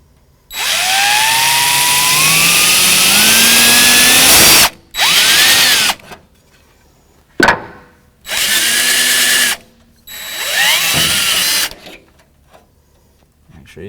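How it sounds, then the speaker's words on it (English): A power drill whines up in pitch as it bites into sheet metal while fitting a front fender on a 2015 Jeep Wrangler JKU, then runs in several shorter bursts separated by silence. "as the bit starts to bite, I'll straighten out the drill."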